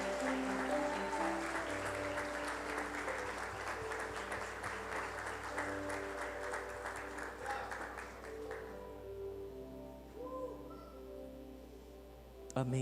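A church congregation applauding, a long sustained round of clapping beneath music and a voice, tapering away in the last few seconds.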